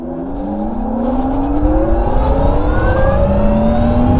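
Electric motorcycle in city mode accelerating on throttle alone with no gear shifts, a rising whine climbing steadily in pitch over a continuous roar of wind and road noise, loud and close throughout.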